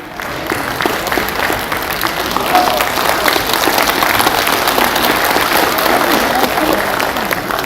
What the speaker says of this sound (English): please join me in giving all a warm round of applause to all of us guests today